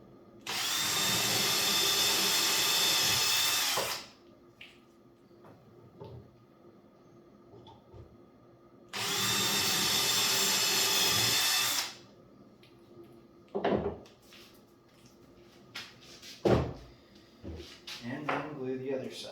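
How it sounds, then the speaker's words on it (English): Power drill boring holes through a kit knife with a 1/8 inch bit, two sustained loud whining bursts of about four and three seconds separated by quiet workshop handling noises. "use a 1/8 inch drill bit"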